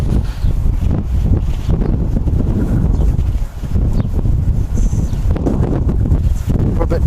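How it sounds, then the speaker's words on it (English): Strong gusting wind buffets the microphone at Wellington Airport, a constant loud roar that rises and dips throughout with no clear gaps. "It sounds windy. It is really windy."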